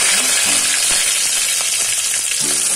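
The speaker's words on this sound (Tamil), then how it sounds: "கடுகு வெடிச்சிச்சு இப்போ நம்ம கருவேப்பிலை" Mustard seeds pop and crackle in hot oil for a fish gravy over a loud, constant sizzle. The frying is close and fills the whole moment.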